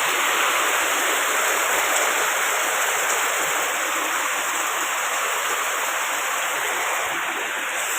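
Heavy monsoon rain pours down in a dense, steady roar that stays loud and even from start to finish, with no voices and no breaks.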